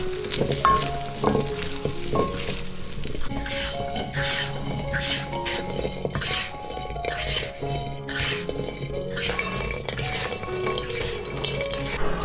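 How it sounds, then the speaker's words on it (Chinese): Olives and dried tangerine peel stir-fried quickly in thick boiled sugar syrup, a steady loud sizzle with clinks and scraping of a spatula against the pan, continuous and close with no talk. "接着把橄榄放进来，快速翻炒。"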